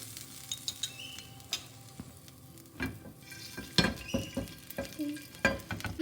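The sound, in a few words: garlic paste frying and stirring in oil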